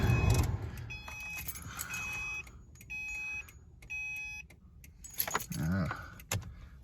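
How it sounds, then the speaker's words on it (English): Keys jangle close by at the start of an old Subaru, followed by repeating electronic warning chimes in steady bursts and the car's engine turning over, with a voice heard briefly. "Get a start on the old Subaru here"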